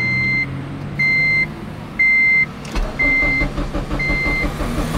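A turbocharged Honda Civic Si starts up close by: a warning chime beeps about once a second, the starter catches partway through, and the engine settles into a low, rough idle as the beeping continues.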